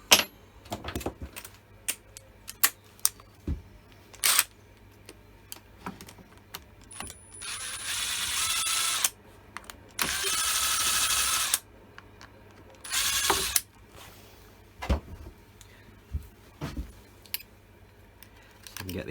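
Allen key bolts are undone on a Husqvarna 550XP chainsaw, with scattered metallic clicks and clanks and several bursts of whirring from a power driver, close up, while someone talks intermittently.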